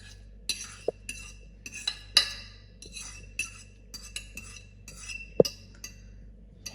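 Mashed bananas scraped from a container into a mixing bowl, a series of light metallic clinks and scrapes of utensil on bowl, spaced irregularly and fairly close in a quiet kitchen.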